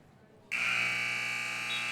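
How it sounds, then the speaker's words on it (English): Loud, sustained electronic buzzer at a girls high school wrestling match, cutting in abruptly over faint gym ambience and droning steadily to the end. "And the buzzer will sound."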